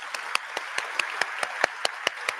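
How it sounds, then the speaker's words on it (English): Applause at a community breakfast event, heard as about a dozen distinct claps in an even, fairly sparse rhythm, as if from only a few hands close by. "So can we just give a round of applause to everybody just again?"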